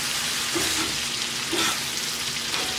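Blackberries being stirred and mashed in a warm pan over low heat for an upside-down cake, a soft continuous sizzle with gentle scraping strokes as the berries break down and release juice.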